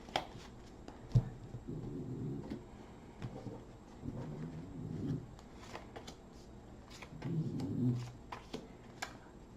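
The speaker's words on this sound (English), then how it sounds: "One more shuffle." Tarot cards being shuffled in several soft riffling bursts, close by, separated by brief pauses and a few light taps.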